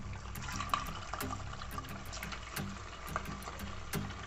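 Potato pieces dropped into hot oil in a pan on a gas stove, a close, steady bubbling sizzle with scattered sharp pops and crackles throughout, no talking.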